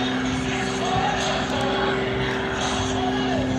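A propeller aerobatic plane's engine drones steadily overhead during air show maneuvers at the Dayton Air Show, a loud sustained tone with a shifting pitch.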